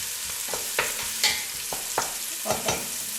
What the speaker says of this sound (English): we put our onion in, okay? And we saute a little bit